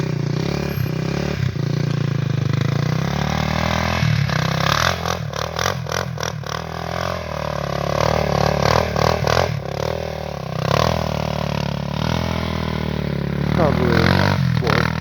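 A Honda TRX400EX ATV with an aftermarket exhaust rides on ice, its engine rising and falling in rough revving bursts with clattery pulses, heard under wind noise and people talking.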